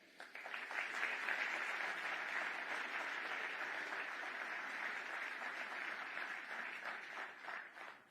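A large crowd applauds steadily at the reopening ceremony for the 495 express lanes in Northern Virginia, a dense, even wash of clapping that swells early and holds for several seconds before easing off.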